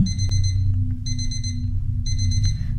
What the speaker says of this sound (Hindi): सुबह के 3:45 शर्मा जी का अलार्म बजता है।